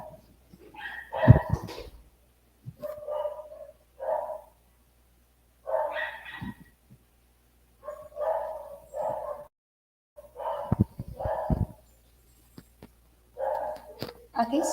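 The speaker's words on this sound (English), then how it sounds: "sorry for the disturbance of the dogs in the neighborhood" Neighborhood dogs bark repeatedly in uneven bursts, some close and loud, others softer, with short pauses between volleys and brief whimpers mixed in.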